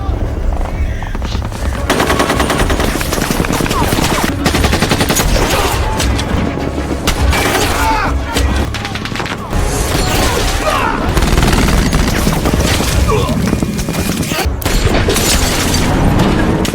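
A film shootout in which snipers and terrorists trade fire: loud, dense machine-gun bursts and scattered gunshots pour out almost without pause, with heavy booms mixed in throughout.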